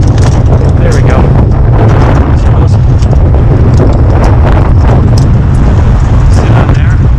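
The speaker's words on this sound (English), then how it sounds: "if you can hear me over the wind" Strong wind gusts roar across a rooftop during a satellite dish installation, a loud, constant buffeting rush that fills the whole stretch.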